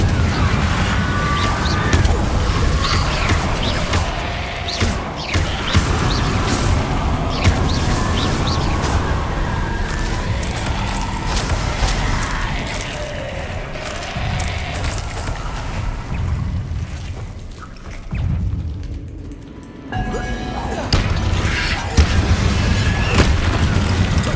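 Confringo blasting spells go off again and again in the Hogwarts Legacy video game, loud booming explosions and crashes in quick succession over a dense, busy game soundscape that eases briefly near the end.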